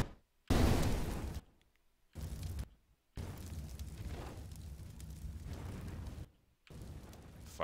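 Fire burning on the Inferno map in Counter-Strike: loud roaring, crackling bursts of flame broken by brief silent gaps, with a strong blast at the start and steady burning after.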